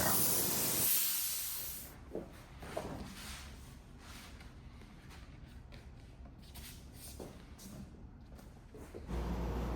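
Compressed air blown in bursts to clear dust off a surface before a decal goes on, a loud hiss at the start and again at the end, with quieter rustling and shuffling in between.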